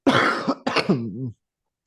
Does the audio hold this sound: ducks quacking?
no